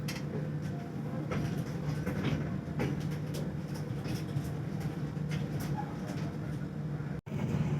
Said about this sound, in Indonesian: saat ini kereta api Pandalungan memasuki stasiun Tanggul.